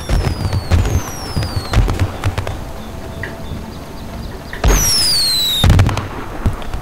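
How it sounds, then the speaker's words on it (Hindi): Firecrackers pop and crackle in GTA V, sharp bangs scattered throughout with louder bursts toward the end, alone without voices. "यार एक पटाखा दे दो यार"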